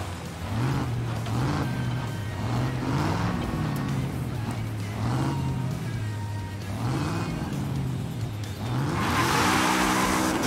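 Porsche 911 GT2 RS tuned to 1100 HP in Forza Horizon 5, its engine droning loud and steady with repeated rising rev swells and gear shifts, ending in a bright rushing burst of acceleration.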